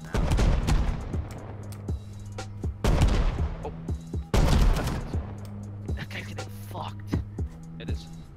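Gunfire crackles in a vanilla wipe survival video game: several sharp bursts and scattered single shots, some loud and close, others fainter, with muffled voices underneath.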